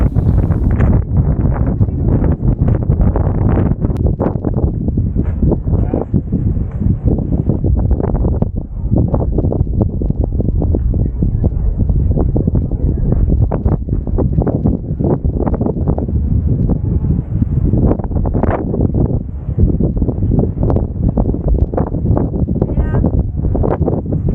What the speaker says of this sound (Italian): Ho deciso di lasciare l'audio originale per farvi ascoltare la potenza del vento e tutta la forza della Corsica